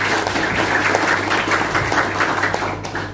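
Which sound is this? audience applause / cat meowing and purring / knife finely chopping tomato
audience applause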